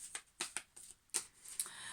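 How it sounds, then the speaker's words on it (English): A deck of tarot cards is shuffled by hand close up, giving a quiet run of quick papery riffles and soft slaps in short irregular bursts, with no talking. "I'm going to shuffle again."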